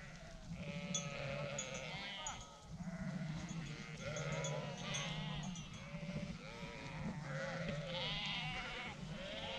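Sheep and lambs bleat repeatedly over a steady outdoor din, several animals calling close by with overlapping, wavering cries.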